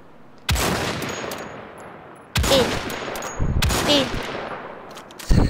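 Gunfire in the video game Wolfenstein: several sharp, loud weapon bursts with ringing metallic tails, spaced a second or two apart, over a quiet game background with a single brief spoken word.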